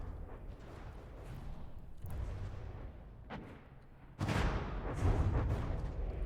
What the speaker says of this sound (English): I saw multiple explosions at the same time with no hits